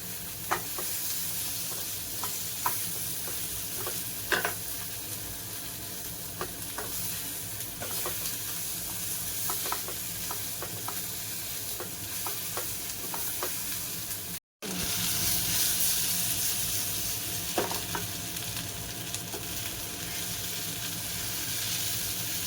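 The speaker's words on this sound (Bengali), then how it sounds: "কাবাবগুলো দিয়ে দিলাম, জাস্ট একটু হালকা ফ্রাই" Kebabs fry in a pan with a continuous dense sizzle and hiss, close and even throughout, with occasional faint ticks of spattering oil and a brief cut near the middle.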